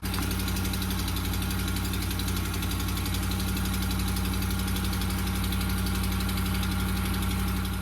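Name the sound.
truck engine ticking from cracked exhaust manifold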